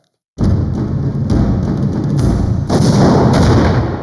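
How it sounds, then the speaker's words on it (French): Artillery batteries bombard the city of Quebec in a sustained, loud barrage of heavy booms that roll into one another, building into a dense, continuous rumble. "Et là, c'est un bombardement d'enfer."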